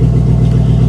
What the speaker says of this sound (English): Not sure why it sounded like it was fucking misfiring at first, but sounds okay now.